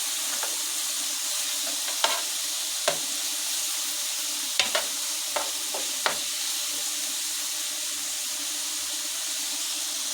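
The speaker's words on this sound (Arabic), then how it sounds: "هنفرد برضو الكبده كده لحد ما ناخد لها صدمه" Liver frying in a pan, a steady hiss and sizzle with a few sharp scraping clicks as it is stirred and spread, close by and alone with no talk.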